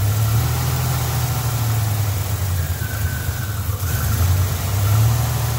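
An old Buick engine idles roughly and loudly at close range, a steady low rumble that wavers unevenly, with no clear pops standing out.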